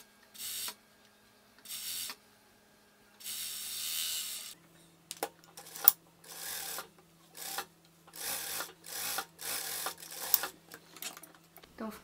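Short bursts of an overlock sewing machine stitching a dress side seam, several separate whirring runs with pauses between, close by with a faint hum and brief talk in between.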